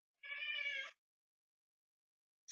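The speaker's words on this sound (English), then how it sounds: "Yes, he meowed." A single short, faint meow from a cat, heard once and alone, followed by silence.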